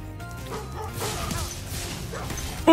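Dog barking in the Spyro Reignited Trilogy video game, a fairly busy game mix with yips and short barks over music and effects, ending in a sudden loud hit.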